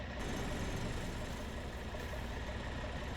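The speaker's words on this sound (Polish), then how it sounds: "Czekamy, aż ten ciągnik tu jeszcze popracuje troszkę." A tractor engine in Farming Simulator 25 runs steadily at a low, rumbling idle, close and continuous with no talking over it.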